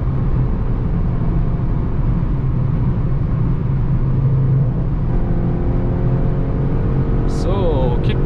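A 2021 Skoda Octavia RS with a 245 hp engine pulls hard on a night drive, a steady loud engine drone and road roar running throughout with a brief higher whine near the end.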